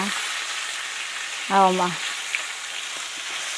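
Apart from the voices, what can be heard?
onions frying in a pan with cooked salmon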